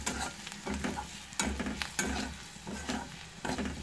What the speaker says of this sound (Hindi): अब इसे अच्छे से भून लेंगे।